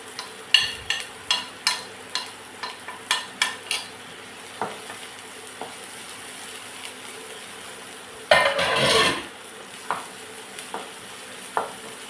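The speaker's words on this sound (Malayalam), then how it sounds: "സവാള പെട്ടെന്ന് വഴന്ന് കിട്ടാൻ വേണ്ടി എല്ലാവരും ചെയ്യുന്ന ഒരു സൂത്രപ്പണിയാണ്" Curry leaves and onions sautéing in a pan, with a string of sharp stirring scrapes, one loud burst of sizzle partway through, then a few more scattered clinks, all close and without voices.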